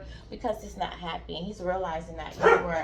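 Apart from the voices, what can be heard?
dog barking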